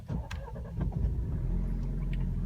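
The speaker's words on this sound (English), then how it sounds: "the starter on a cold start in the morning just kind of sputters to life" An Alfa Romeo engine on a cold start with a weak battery, the starter cranking and sputtering briefly before the motor catches into a steady low rumble, close by and with no talk.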